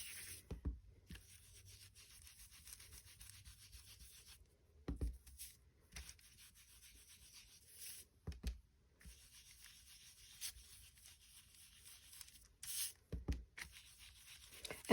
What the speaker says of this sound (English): I'm gonna take my brush and I'm gonna ink this a little bit